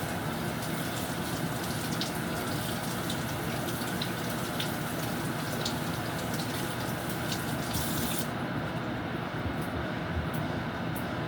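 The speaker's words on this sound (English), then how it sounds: "Make sure I wash these okra properly." Okra is washed under a running tap, a continuous rushing gush of water splashing steadily throughout, briefly thinning near the end.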